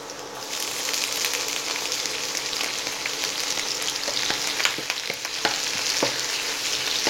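Chopped onion, ginger and garlic fry for chow mein, with a steady crackling sizzle and repeated sharp scrapes and clicks of stirring that grow more frequent toward the end.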